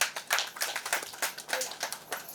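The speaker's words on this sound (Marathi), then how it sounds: "सावीसाठी एकदा जोरदार टाळ्या" Applause breaks out for a young singer at the music launch ceremony of a Marathi devotional gondhal song, a short burst of brisk, fairly close clapping by a small crowd.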